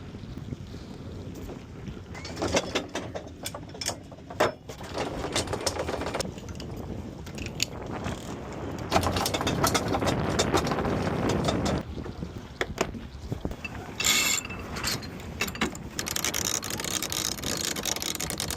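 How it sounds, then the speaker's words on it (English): Sustained wind and water noise aboard a sailboat off Venezuela's coast as the anchor is raised and a sail pulled out, with rattling, creaking and rope handling sounds rising and falling over a steady rush. "I can just pull up anchor and then float back and pull a sail out."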